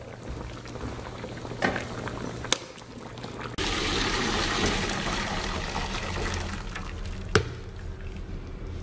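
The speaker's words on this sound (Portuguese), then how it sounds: "E agora vamos tirar essa água da ferventação e partir para o doce final." Water just off the boil is poured off softened orange peels (laranja da terra) in a home kitchen, a steady broadband rush of liquid lasting several seconds, with a few sharp clinks of the pot.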